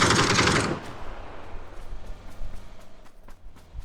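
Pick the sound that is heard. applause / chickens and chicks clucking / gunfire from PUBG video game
gunfire from PUBG video game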